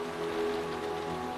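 Rain falling on a stormy, unseasonal night, a steady soft hiss of drops on surfaces, quiet and continuous with no voices.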